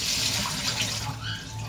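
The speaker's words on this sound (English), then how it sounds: "Just turn the cold water on again," Cold water runs steadily from a kitchen tap into a pan, a continuous close hiss and splash with no talking over it.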